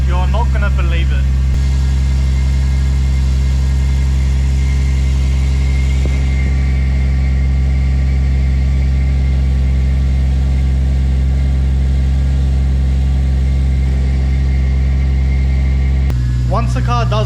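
A Toyota Supra engine idles steadily while warming up from a cold start, a loud continuous low rumble throughout, with brief voices at the start and end.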